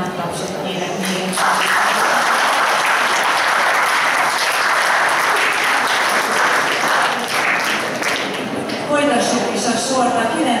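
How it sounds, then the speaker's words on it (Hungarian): Sustained, dense applause from a school carnival ball audience in a gymnasium hall after a waltz danced by students and teachers, loud and continuous for several seconds, with a few voices audible within it. "egy külön nagy tapsot kérek még"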